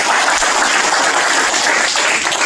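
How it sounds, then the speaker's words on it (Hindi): Loud, dense applause from an audience welcoming the media at a trailer release event, a steady burst of many hands clapping close by for a couple of seconds. "एक बार जोरदार तालियां हो"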